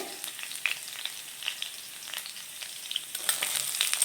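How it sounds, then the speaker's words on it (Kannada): Green chillies and baby corn frying in a pan as onions go in, a soft continuous sizzle with scattered crackles and light stirring taps that build louder near the end, with no talking. "ಇದು ಸ್ವಲ್ಪ ಫ್ರೈ ಮಾಡ್ಕೊಳ್ಳೋಣ. ನೋಡಿ, ಫ್ರೈ ಆಗಿದೆ. ಈಗ ನಾನು ಈರುಳ್ಳಿ ಹಾಕ್ತೀನಿ."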